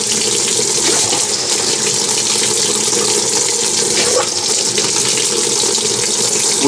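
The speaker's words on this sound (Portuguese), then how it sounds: "ela acendeu a luz aqui, ligado, desligado, e começou a encher de água." Water gushing steadily into a Consul 9kg washing machine (CWB09AB) as it fills, with jets spraying from each side of the drum; a loud, continuous hissing rush with no pauses.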